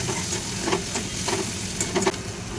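Onion and tomato sizzle and fry steadily in a pan, with a few soft scraping stirs breaking through the hiss at intervals.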